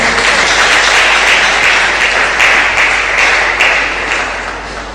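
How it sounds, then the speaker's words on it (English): Audience applause fills a hall at a university occupational therapy day ceremony, a dense steady clapping from many hands that holds loud for several seconds before gradually thinning and fading. "A round of applause."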